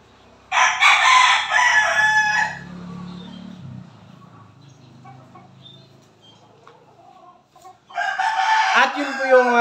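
Boston Roundhead gamecock roosters crowing loudly and nearby, two long crows with a quieter gap of soft clucking and rustling between them.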